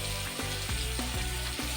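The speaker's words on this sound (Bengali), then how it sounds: "চিকেনগুলো ভাজা হতে হতে" Chicken pieces frying in hot oil for a chicken soup, giving a steady, close sizzle that runs throughout with a few brief stirring or scraping sounds.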